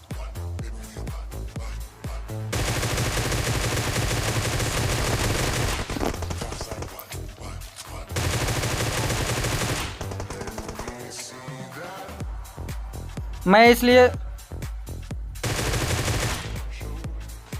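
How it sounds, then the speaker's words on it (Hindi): Gunfire in the battle royale game BGMI (PUBG Mobile) during an intense fight, with long bursts of rapid automatic fire separated by short gaps and a brief spoken word near the end. "इसलिए मैं सिर्फ गोली चला रहा था"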